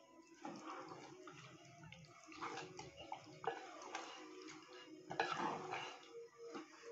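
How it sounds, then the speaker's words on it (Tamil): Water is poured into chicken gravy cooking in a pot, giving a soft, faint splashing and trickling with a few light clinks of cookware. "கொஞ்சமாக அதில் தண்ணி சேர்த்துருவோம்."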